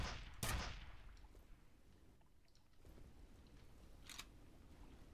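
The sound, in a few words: nail gun firing in video game F.E.A.R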